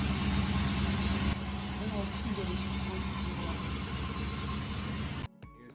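An AMC Matador car engine idling nearby, a steady low rumble that holds evenly while someone talks over it, then cuts off abruptly at the end.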